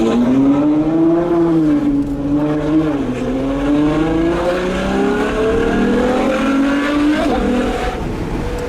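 A Ferrari F12, driven in Italy behind an 812 Competizione, accelerates with a loud, close engine whose pitch climbs and drops through gear changes, steady and dominant with no talking over it.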